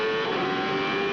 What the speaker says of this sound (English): They go screaming past the pace car.